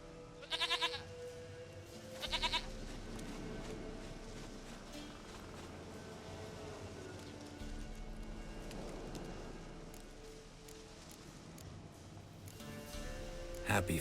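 Game goat from The Witcher 3 lets out two quick bleats close together at the start, then a third near the end, with steady ambient background in between and no voices.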